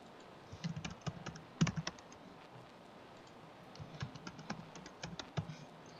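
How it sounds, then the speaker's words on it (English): Someone types a username and password on a computer keyboard: soft, scattered key clicks in short bursts with pauses between them, fairly quiet in a calm room. "keys his username and password"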